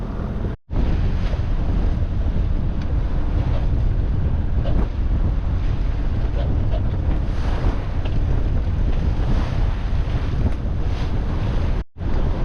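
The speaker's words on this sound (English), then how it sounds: "The winds are now around 20 knots." Strong wind roars over the microphone aboard a sailboat motor sailing upwind at around 20 knots of wind, with a steady dense rush of wind, waves and hull noise throughout and two brief dropouts.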